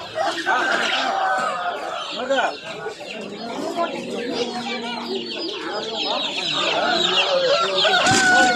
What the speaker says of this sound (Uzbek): 2000 so'mdan bedana jo'jalar